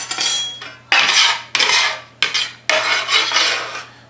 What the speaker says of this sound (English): scraping that all up